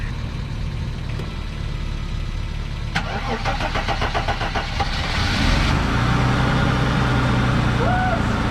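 A car engine cranks in 17-degree cold, a rapid rhythmic churning of the starter that catches and settles into a rough, steady idle, close and loud, with people talking around it.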